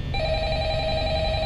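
Electronic phone ring in Five Nights at Freddy's, a steady sustained tone that starts abruptly and holds loud and clear, with no voices.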